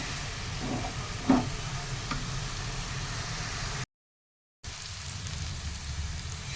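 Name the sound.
red spinach (lal shak) frying in a pan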